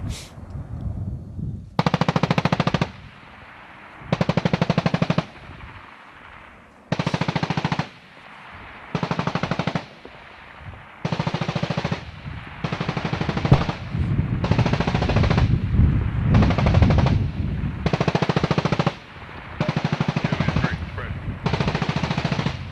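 US Marines fire automatic weapons at targets roughly 250 to 300 meters away during a live-fire infantry exercise, with repeated loud bursts of several seconds each separated by short pauses, and rumbling background noise between them.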